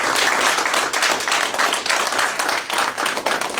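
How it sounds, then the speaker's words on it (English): A graduation audience claps in a sustained burst of applause, dense and even with no break, many hands close by and loud. "So just give yourselves another round of applause."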